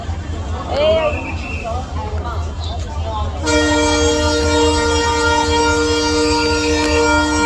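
A train horn sounds from about three and a half seconds on, a loud sustained blast continuing to the end, after a stretch of crowd babble and voices at a station.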